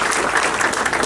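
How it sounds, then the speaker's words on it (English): Guests at a graduation party applauding an honored friend, a short dense burst of close clapping with no voices over it. "So I would like to also give him applause."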